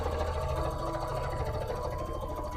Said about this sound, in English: So we'll just get to sewing the two pieces around the edge.